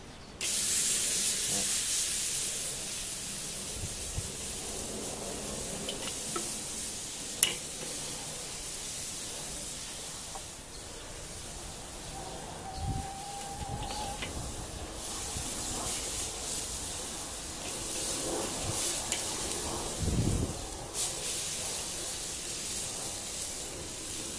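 Picanha beef sears on the grate of a small Weber kettle grill, giving a steady hissing sizzle with occasional pops and crackles, heard close and alone with no talking.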